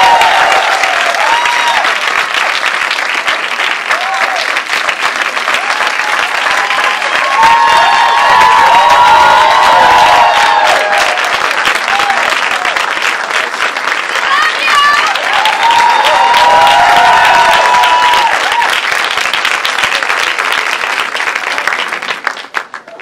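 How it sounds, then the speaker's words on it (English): A large crowd gives loud, sustained applause with whoops and cheers for Nate Parker at a talk about The Birth of a Nation, voices calling out over the clapping throughout. "Can y'all give a warm round of applause for Mr."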